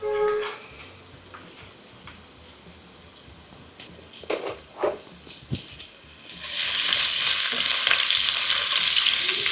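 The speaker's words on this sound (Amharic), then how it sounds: "እንደዚህ አድርጋችሁ ነጭ ሽንኩርቱን እንደዚህ ጠበስ ካደረግነው በኋላ" Garlic frying in oil in a pan for spaghetti, quiet stirring and scraping at first, then a loud, steady sizzle surging up and filling the last few seconds, with some talk over it.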